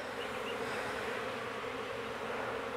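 Honeybees from a late May swarm capture in Jacksonville, Florida, buzz in a dense, continuous drone after being dropped on the ground, close and steady with no voices.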